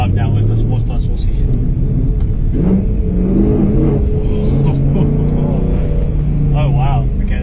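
Car accelerating hard uphill with Sports Plus throttle mode engaged via a Pedal Commander PC10-BT throttle controller, a steady loud engine drone rising through the clip while someone talks over it.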